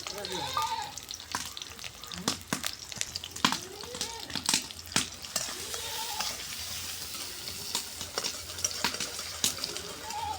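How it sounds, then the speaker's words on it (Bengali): Green chili, chopped onion and garlic frying in hot oil for jute-leaf curry, a busy crackling sizzle with stirring scrapes and clatters, close, while a distant animal bleats and a voice is heard faintly. "তেলটা আমার তাতে গেছে, দেখুন কাঁচা মরিচ দিয়ে দিলাম, একটু পেঁয়াজ কুচি দিলাম, রসুন কুচি দিলাম"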